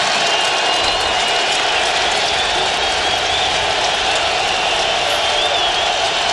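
A packed stadium crowd at an NFL game between Miami and New England roars in a continuous, dense wall of cheering that holds steady for several seconds with no break.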